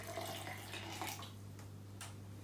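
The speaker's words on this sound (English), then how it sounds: "I'm going to add a bit of water here" Water pours into a thick vegan macaroni cheese sauce in a kitchen, a steady close trickle that fades after a second or so, leaving a faint low hum beneath.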